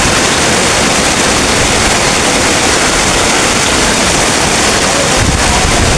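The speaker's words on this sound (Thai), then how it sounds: "ทั้งฝนทั้งลม" Dense, loud roaring hiss fills everything, like heavy rain pouring down with wind, steady and unbroken from start to finish.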